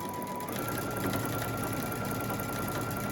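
A sewing machine whirs steadily and continuously while stitching the curved edges of a surgical mask with a quarter-inch seam, with no voices.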